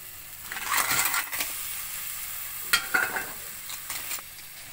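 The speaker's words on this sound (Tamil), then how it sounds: "இப்போ மசாலா நல்லா வதங்கிடுச்சு இப்போ கிராப் ஆட் பண்ணிக்கலாம்" Crab goes into a pan of sautéed onion-tomato masala, producing a sizzling fry with a couple of louder clattering bursts as the pieces land and are stirred, heard close and without talk.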